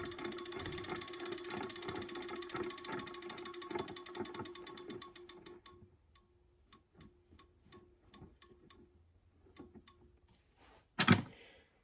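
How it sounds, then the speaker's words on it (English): Rapid steady mechanical clicking from the centrifugal switch of a running General Electric electric motor slows into sparse, spaced clicks as it winds down, ending with a sharp knock. "That clicking sound you hear is the centrifugal switch in the"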